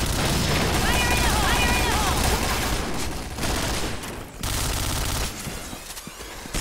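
Rapid gunfire from the online shooter Point Blank in a deathmatch game, dense and continuous through the first half and then more scattered, heard under steady excited commentary.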